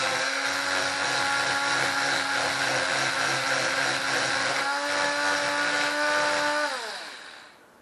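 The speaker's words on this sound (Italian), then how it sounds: "preparare le superfici con il nostro Dremel, rendendo la superficie scabrosa e piena di bozze" A Dremel rotary tool roughening the surface of a Minarelli scooter engine crankcase, whining at a steady high pitch with a constant buzzing grind for several seconds before the motor winds down and stops.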